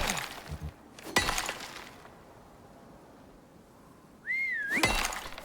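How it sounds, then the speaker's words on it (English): In the Icarus video game, a short rising-and-falling player whistle, the all-follow command, sounds once over a quiet ambient bed. Brief clinking item noises come before it. "The all-follow whistle only really works to like 20 meters, so the Tusker probably didn't hear me"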